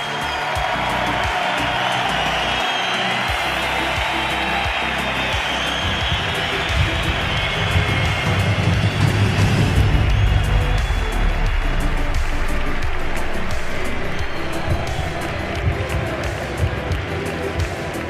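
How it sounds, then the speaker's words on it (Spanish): A crowd applauds and cheers for journalist Iker Jiménez at an outdoor gathering, a broad sustained wash of clapping and shouts that swells in the middle and holds loud throughout. "Un fuerte aplauso porque tenemos aquí al periodista Iker Jiménez"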